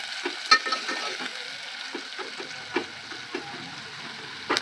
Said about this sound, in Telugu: అవి తీసేసిన తర్వాత ఉల్లిగడ్డ వేసుకోవాలి.